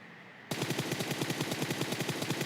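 Rapid automatic gunfire erupts suddenly in a battle royale video game, a fast, evenly spaced string of loud shots continuing without pause after a brief quiet start.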